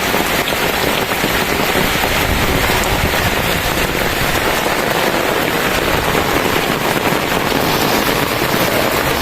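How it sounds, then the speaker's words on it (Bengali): A sudden heavy downpour falls from a darkened sky, and water pools on the ground. It is a loud, close, continuous drumming of rain on surfaces, steady from start to finish with no voices. "বৃষ্টি ভালো হয়েছে দেখেন পানি জমে গেছে"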